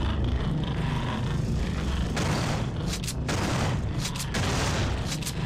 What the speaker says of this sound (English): I'm killing you guys with shotguns